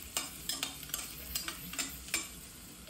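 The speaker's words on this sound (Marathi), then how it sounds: "थोडासा रेडिश लालसर करून घ्यायचा आहे कांदा. आणि हे सगळं फुल गॅसवरतीच करायचं आहे." Onion fries in a pan over a full flame while a spoon stirs it, giving a steady soft sizzle broken by repeated sharp scraping clicks in an irregular rhythm, close and fairly quiet.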